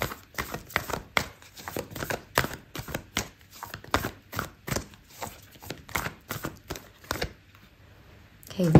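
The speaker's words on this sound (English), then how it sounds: "I'm going to pull out an oracle card for you" Oracle cards being shuffled for a tarot reading, with a rapid run of crisp, close riffling slaps in an uneven rhythm, then a brief lull and a final rustle.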